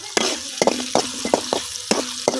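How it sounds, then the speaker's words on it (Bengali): Whole garlic cloves dropped into a pan of long-fried chopped tomatoes, a steady sizzle broken by repeated scraping and stirring clanks of a spatula in an uneven rhythm, close and clear. "টমেটোটা অনেকক্ষণ ভাজা নিয়েছি, এখন দিয়ে দিতেছি কিছু আস্ত রসুন"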